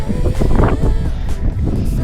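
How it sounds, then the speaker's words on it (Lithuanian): Steady roaring cold wind buffets the microphone in loud gusts on a mountain ridge in Croatia, a constant low rumble filling the whole stretch. "Baisiai šaltas vėjas pučia."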